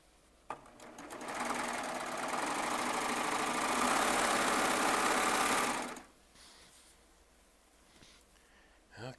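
A Baby Lock Triumph serger runs at full speed in one continuous, loud whirring burst lasting about five seconds, then cuts off, leaving faint room noise and a small knock at the end.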